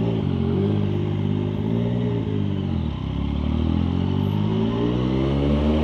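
A Yamaha MT-09 motorcycle idling and creeping through a Malaysian traffic jam, its engine a steady, close, throbbing hum that dips briefly and picks back up, with other traffic around.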